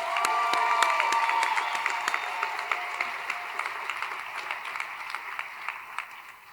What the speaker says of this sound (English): one last round of applause for all of our finalists